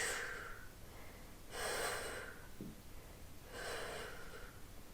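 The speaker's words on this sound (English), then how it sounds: "Exhaling, little exhales." Short, breathy exhales during a crunch exercise, three soft puffs spaced a couple of seconds apart, faint and close with no talking.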